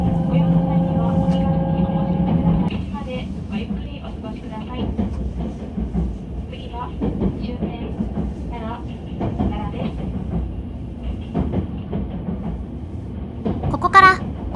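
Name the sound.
Kintetsu limited express Mahoroba train running from Shin-Osaka onto Osaka Higashi Line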